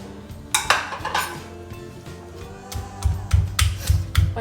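Garlic with coriander leaves and lemongrass is pounded for Thai-style grilled chicken marinade: scattered clinks and knocks at first, then a run of steady, fairly loud low thuds near the end, with no talk.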